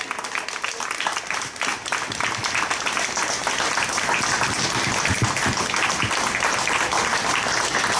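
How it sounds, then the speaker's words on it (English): Sustained applause from an outdoor audience gathered for a historical commemoration, dense clapping that swells and holds steady for several seconds. "can I have a round of applause for Woman Who Walks Ahead?"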